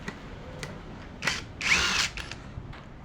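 A Prostormer 17V cordless impact driver drives a screw in a few short, fairly quiet bursts, the longest lasting under half a second, with brief clicks between them.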